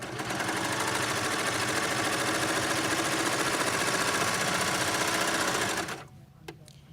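A Baby Lock Imagine serger runs steadily, sewing a narrower stitch with its knife set to the smallest position. The motor whirs loud and continuous for about six seconds, then stops abruptly, leaving a quiet room with a faint click.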